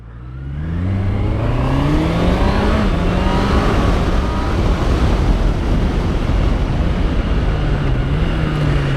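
A 2025 Honda CBR650R E-Clutch motorcycle engine revving loudly after a downshift into first, the pitch climbing and falling through strong acceleration with heavy wind roar throughout.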